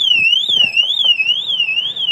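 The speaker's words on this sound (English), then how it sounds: "Another alarm, it's a supplementary alarm." A Pandora Smart Moto supplementary motorcycle alarm, mounted inside a top case, wails in a loud close rising and falling electronic siren that repeats about twice a second, with faint handling knocks beneath it.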